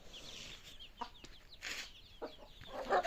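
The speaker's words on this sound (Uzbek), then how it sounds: "Xo'rozlarni optoga olib chiqib toblayapmiz." Roosters, including young yellow ones, cluck and call outdoors in the open air, a few brief clucks scattered over a quiet background with no speech.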